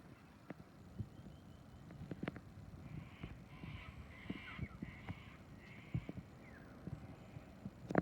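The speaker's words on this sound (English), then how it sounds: "There go the cockatoos." Cockatoos call from trees around a suburban garden with a flame tree and jacarandas, a run of harsh squawks in the middle distance over faint background noise and scattered small knocks.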